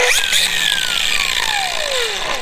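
A loud, close sanding wheel on a power tool whines steadily, its high-pitched tone gradually winding down over a couple of seconds, while removing the bumper cover of a 1996 Jeep Grand Cherokee Laredo ZJ.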